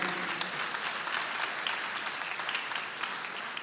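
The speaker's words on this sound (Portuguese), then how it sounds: "aplauda o casamento aí" A church congregation applauds together during a sermon, a dense, sustained burst of many hands clapping at even loudness, filling the hall with no speech over it.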